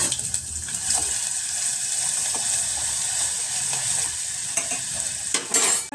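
Green chillies with urad dal and chana dal frying in hot oil: a steady, close sizzle with scraping stirs from a spoon against the pan and a few louder clanks at the end.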